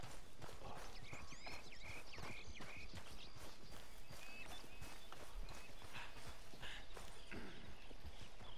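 Horse hooves clip-clop steadily in the video game Red Dead Redemption 2, a continuous walking rhythm set against dense outdoor ambience with faint bird chirps.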